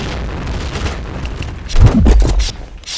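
Grenade blast in the shooter game Point Blank: a loud low boom swells up midway and rumbles for about a second before fading back into the steady game background.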